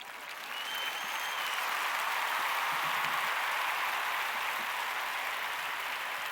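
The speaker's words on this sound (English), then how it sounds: "We can clap." Applause sound effect played during a livestream, a steady wash of many hands clapping, moderately quiet and even throughout, with no talk over it.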